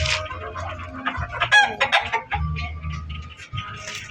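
White Kelso gamefowl cluck and murmur close by in a backyard pen, with short bursts of clucking and a brief squawk over low rustling.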